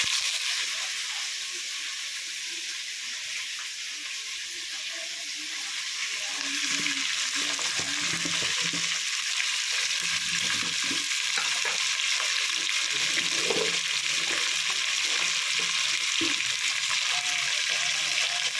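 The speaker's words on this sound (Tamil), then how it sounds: "நம்ம வெங்காயம், பச்சை மிளகாய், புதினா எல்லாம் ஒன்றா போட்டுருவோம். இப்போ நல்லா இது வதங்கணும்." Onion, green chili and mint sautéing in a pan for coconut milk rice, a steady broadband sizzle throughout with soft stirring scrapes, growing slightly louder partway through; no voices.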